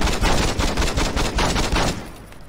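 Rapid gunfire in Saints Row 2, a pistol firefight with dense, continuous bursts of shots that thin out and fade near the end.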